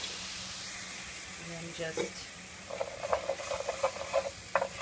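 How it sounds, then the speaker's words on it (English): A soft sizzle and crackle from vinegar in a hot pan after caramelizing onions rises and continues, with brief speech over it near the start. "Just going to sizzle up a little bit."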